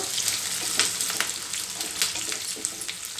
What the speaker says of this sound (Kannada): ಇದೆಲ್ಲ ಚೆನ್ನಾಗಿ ಫ್ರೈ ಆಗಬೇಕು